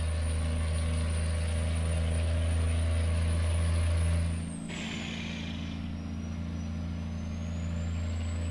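A simulated truck engine in American Truck Simulator drones loudly at full throttle, then its pitch drops abruptly as it downshifts and settles into a lower, steady roar.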